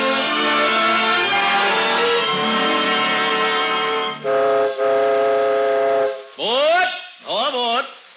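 Radio-drama train effect for an imaginary train ride: a sustained, chord-like train whistle blows loud and steady, then breaks into short sliding blasts that bend in pitch near the end.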